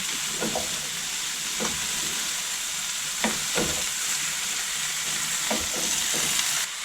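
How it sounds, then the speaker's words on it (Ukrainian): Steady sizzling of vegetables, including pumpkin, celery and potato, frying in a pan, with a few soft scraping stirs scattered through; no voices. "обсмажу декілька хвилин"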